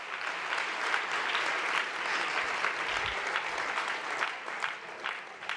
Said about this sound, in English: Give yourselves a round of applause for taking the time out of your day to support this wonderful nonprofit.